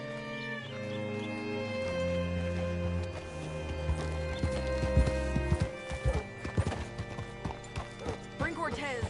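Hooves clip-clop and a horse whinnies in the video game Red Dead Redemption 2, layered over a sustained musical score with game dialogue.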